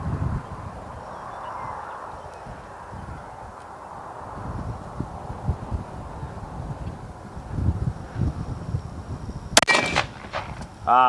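A single sharp rifle shot from a 6PRS Moses precision rifle rings out near the end, loud and close, after a stretch of outdoor wind and rumble, with a brief echo trailing off.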